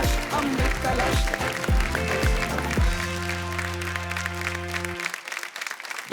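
Audience applause on the stage of a folk singing reality show on TV, clapping mixed with loud music, drum hits and sustained chords. It fades to a few scattered claps at the end.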